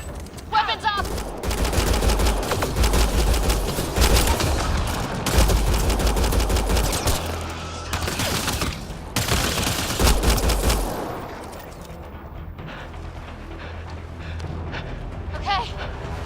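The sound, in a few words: gunfire in the video game Mass Effect Andromeda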